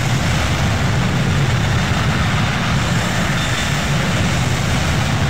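Airbus A330 jet engines in the X-Plane 9 flight simulator give a steady, loud, broadband roar with a deep low rumble, unbroken throughout with no talk.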